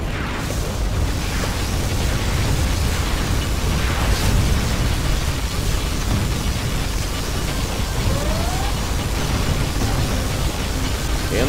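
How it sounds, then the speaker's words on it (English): Particle cannon fire in Command & Conquer: Generals: continuous loud rumbling blasts and booming explosions overlap in a dense, roaring barrage, with sharper bursts punctuating the steady noise. "General, our enemy is using their particle cannon."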